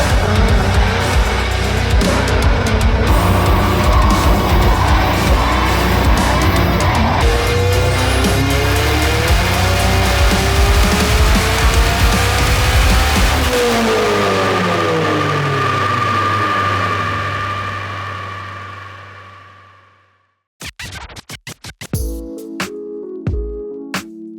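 A turbocharged K24-swapped Subaru BRZ with an 8HP70 automatic drives hard, its engine loud and close as it climbs and shifts through the gears, then fades to a low drone before a few clunks and rattles at the end.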